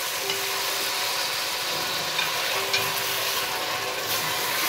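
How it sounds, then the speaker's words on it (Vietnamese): Tomatoes stir-fry in a pan with garlic and onion already fried fragrant, giving a steady close crackling sizzle with light stirring scrapes throughout. "mình sẽ đảo lên để mình xào cà chua cho các bạn"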